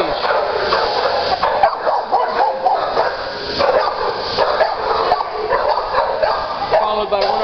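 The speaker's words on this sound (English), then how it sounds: "And my next dog is Lucy" A dog barks and yips in short repeated bursts, loud and close, with some whimpering mixed in over steady room noise.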